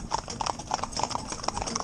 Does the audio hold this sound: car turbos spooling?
no